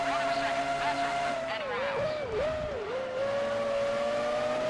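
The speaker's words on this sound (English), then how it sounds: "the Williams BMW powering Ralf Schumacher down the hanger straight ahead of Cristiano De Mata" A Williams BMW Formula One car howls down the Hangar Straight in Formula One 2003, a loud, high-pitched sustained engine scream that dips briefly through gear changes, with a commentator talking over it.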